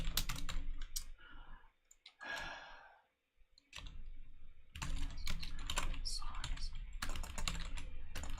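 Rapid clattering keystrokes on a computer keyboard come close and steady in bursts, with a short pause and a soft sigh midway.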